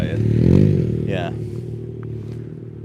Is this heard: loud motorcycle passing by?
yes